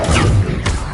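A Confringo blasting spell bursts in Hogwarts Legacy during a fight with wolves: a loud, close impact at the start with a whooshing flare, then a second burst about two-thirds of the way through, amid ongoing combat effects.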